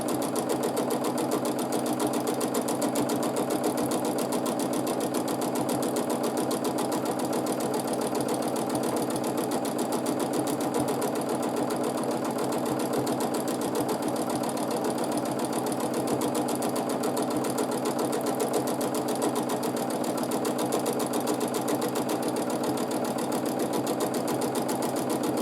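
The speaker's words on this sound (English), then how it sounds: "I am moving my fabric also at a constant rate. And in this way my stitches are more or less equal." Sewing machine running steadily during free motion meander and pebble quilting, a loud, even, rapid mechanical hum and stitch rattle that continues without a break.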